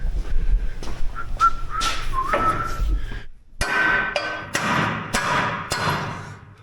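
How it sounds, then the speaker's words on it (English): Ball peen hammer blows land on a car's exhaust pipe, a series of sharp metallic thuds in irregular bursts, close and loud, with a faint whistling tone between strikes. "I'm just gonna beat it with a ball peen hammer"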